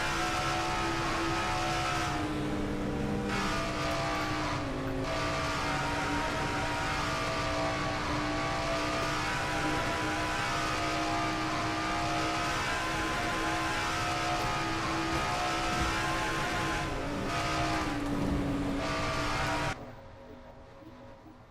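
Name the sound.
race cars at over 185 mph at Atlanta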